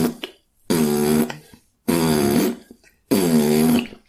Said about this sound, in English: she wanted to change the bong sound to fart noises